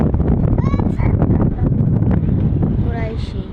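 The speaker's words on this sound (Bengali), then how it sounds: "বাতাস, অপূর্ব বাতাস গাইস" Wind gusts across a rooftop, buffeting the microphone with a constant loud rumble, while voices and faint whistling tones come through underneath.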